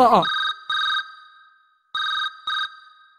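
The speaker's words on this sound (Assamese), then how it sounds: "একেবাৰে ঠিক সময়তে ফোন কৰিছ" A telephone rings with an incoming call, two pairs of bright electronic rings separated by a pause, just after a brief voice at the start.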